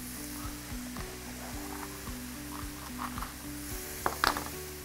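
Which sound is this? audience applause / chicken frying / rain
chicken frying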